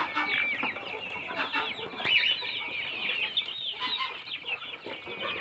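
Caipirão Vermelho chicks clucking and peeping together in a pen, a busy overlapping chorus of short high chirps and clucks, close and continuous, with no talking.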